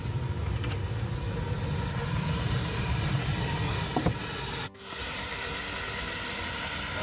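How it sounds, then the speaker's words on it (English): A Stanley Steamer steam car, fired up to about 200 pounds of steam, gives off a steady close hiss that cuts off abruptly for a moment and then resumes at a slightly lower level. "we're at just about 200 pounds of steam"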